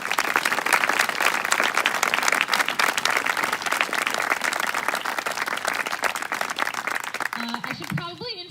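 Dense, loud applause fills a summer camp program at Camp Normanna, a steady crowd of clapping hands that carries on for several seconds before tapering off as a voice begins speaking.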